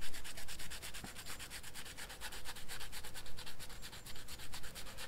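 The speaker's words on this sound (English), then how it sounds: "sand it as smooth as you can." Sandpaper rubs steadily back and forth over a seam ridge on a model kit part, a close, rhythmic scratchy rasp repeating in quick even strokes with no voices.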